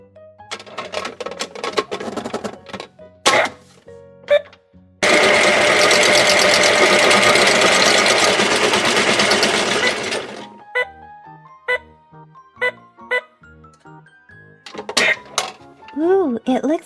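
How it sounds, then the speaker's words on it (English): A toy washing machine runs with a loud, steady mechanical whir for about five seconds, framed by scattered plastic clicks, clinks and taps of toy handling before and after. "Let's see if this washing machine can get us some more outfits."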